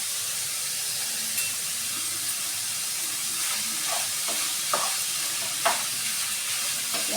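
A dry dates halwa mixture is fried and stirred in a pan, with a constant soft hiss and sizzle and a few spoon scrapes and taps against the pan, no talking.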